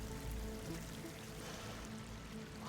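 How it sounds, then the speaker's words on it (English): Water pours into an enclosed space in Horizon Forbidden West, a steady low rushing flow that stays fairly quiet and continuous and swells slightly toward the end. "Water's coming in."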